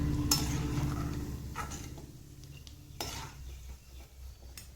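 Gentle sizzling of cashews frying in hot ghee, with occasional clinks and scrapes of a spoon stirring in a pan.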